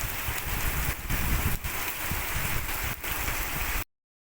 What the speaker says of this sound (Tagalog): Ambon na lang po.